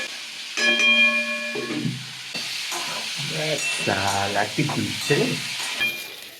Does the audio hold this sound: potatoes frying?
yes